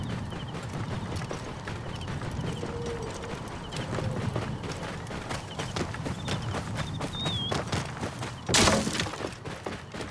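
A donkey's hooves clip-clop steadily in Assassin's Creed Origins, a brisk, even trot heard close with ambient background and a brief crash near the end.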